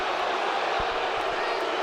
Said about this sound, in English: The crowd's reacting to the Jumbotron where it looked like he tripped over his own foot.